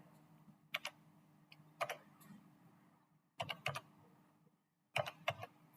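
Keys on a computer keyboard click in short bursts as a captcha is typed, with a few quick taps, a pause, then two more clusters of clicks, close and fairly quiet over a low background hum.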